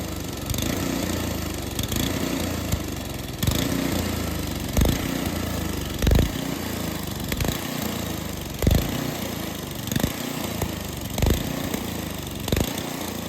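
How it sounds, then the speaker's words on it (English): An old snowmobile engine with a new carburetor runs roughly, surging and stumbling in an uneven galloping rhythm, unable to idle, loud and continuous without talking. "with the new carburetor, it still gallops and won't idle"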